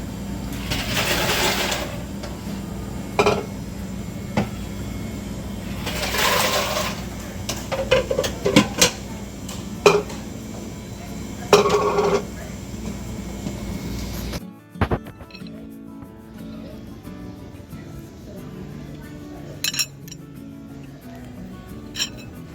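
An automated pancake machine in an Alaska Airlines first-class galley whirs and clatters mechanically, with steady motor hum, intermittent clicks and clinks, then a sudden drop to quieter cabin background.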